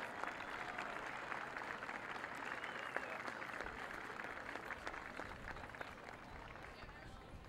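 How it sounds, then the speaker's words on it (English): A large audience at an outdoor Louisiana march and rally applauds steadily for several seconds, a dense, continuous patter of clapping at fairly even loudness, with crowd noise mixed in. "Let's everybody else give them a huge round of applause."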